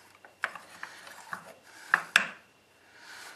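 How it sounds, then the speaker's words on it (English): A six inch C clamp is handled and adjusted during motorcycle brake work, giving a series of small metallic clicks, taps and scraping ratchet-like sounds, close and sparse, with a louder pair of clanks near the end. "Let me put this back up here so I can work with the C clamp a little bit."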